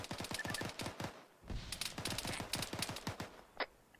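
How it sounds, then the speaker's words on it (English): Rapid bursts of gunfire in the video game Arma 3, a pistol firing off amid sustained loud volleys, with dense overlapping shots filling most of the stretch and a brief lull before more firing and a sharp final crack. "he's just firing off with his pistol"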